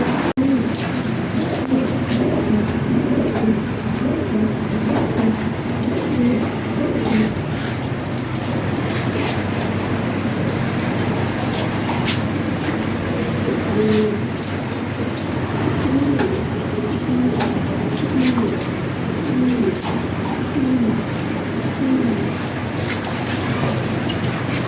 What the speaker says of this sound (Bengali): দেখেন কত সুন্দর সুন্দর কবুতর।